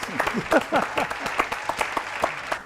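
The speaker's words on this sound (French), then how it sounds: "Applaudissements pour mes trois invités." A television studio audience claps for the guests, a brisk but fairly light patter of hands with some distinct close claps, lasting a couple of seconds with a hint of voices underneath.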